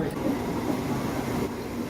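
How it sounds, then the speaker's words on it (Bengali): A train from Howrah pulling into Tribeni station, heard as a continuous rolling rumble with rail noise, fairly close and steady throughout. "আমাদের ট্রেন চলে এসছে"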